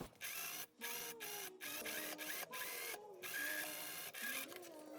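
A sewing machine stitching around a stretched elastic waistband on thin blouse fabric, a busy mechanical whir with brief pauses and restarts, close and fairly steady.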